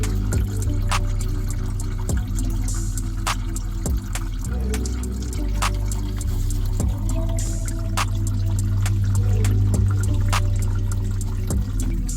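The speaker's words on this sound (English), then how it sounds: "I've only got 3 bolts out so far, and it already started dripping down." Coolant trickles and pours steadily from the water pump of a 2014 GMC Acadia into a bucket below. The liquid sounds close and continuous, with occasional clinks from the work, and no one speaks.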